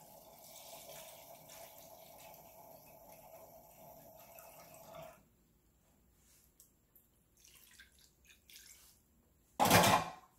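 Water streams steadily into a pan of vegan gyoza for several seconds, then stops, followed by faint small clatters and a brief loud burst near the end.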